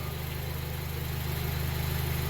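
A Jeep engine running poorly idles with a steady low, throbbing putter at moderate distance, its uneven pulsing rhythm continuing alone without voices.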